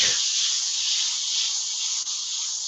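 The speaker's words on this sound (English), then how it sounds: "I'm spraying from around about 4 to 5 centimeters away" A steady, close airy hiss of an airbrush spraying paint from about 4 to 5 centimeters away runs without pause, even and continuous from start to finish.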